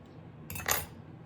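A brief cluster of light metallic clinks and scrapes as a fork taps and pokes holes into apple pie dough on a pan, close and quiet.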